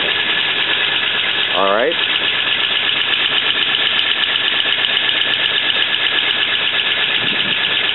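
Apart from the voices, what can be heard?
1941 Ford Super Deluxe engine revving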